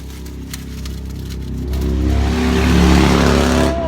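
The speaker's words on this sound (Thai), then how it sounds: "โอ้โอรถมอไซค์" A motorcycle engine revs and swells as it passes nearby on a street in America, rising to a loud peak and then trailing off with a steady growl.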